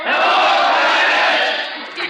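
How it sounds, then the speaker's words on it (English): A large football crowd roars and cheers continuously as the USC team runs past, in a 1945 radio comedy scene, with a steady loud wash of voices that dips slightly near the end. "Yeah, listen to that crowd."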